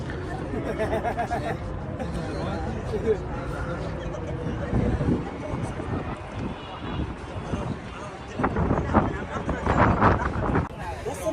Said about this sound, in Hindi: हवा बहुत तेज़ है यहाँ पे, बहुत सर्दी है